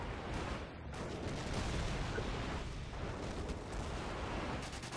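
A video game airstrike sets off a continuous rumble of heavy explosions that fills the clip, loud and sustained with deep booming blasts and no speech.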